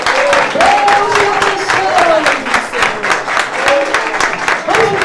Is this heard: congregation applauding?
yes